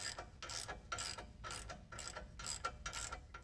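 Ratchet wrench backing out the torsion bar adjusting screw on a Chevy Silverado, a steady run of quick, evenly spaced metallic clicks, moderately close and with no talk.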